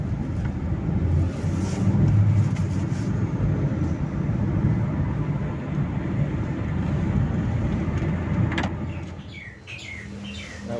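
Hyundai i10 car rolling on a test drive, with steady road and engine rumble from inside, loudest early then easing off, while birds chirp intermittently toward the end.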